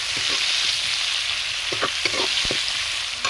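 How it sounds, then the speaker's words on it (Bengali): Chopped onions and bay leaf fry in a pan for a Bengali village-style jackfruit curry, a steady hiss of sizzling oil broken by a few scraping stirs and clinks near the end. "ওর মধ্যে দিয়ে দেব তেজপাতা, পেঁয়াজ কুচি, ভালোভাবে পেঁয়াজগুলো ভেজে নেব"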